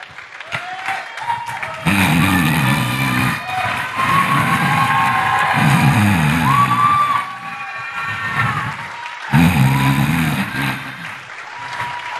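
Congregation clapping and cheering at a Sunday church service, a loud sustained wave of applause with shouts that dips briefly and swells again, filling the room.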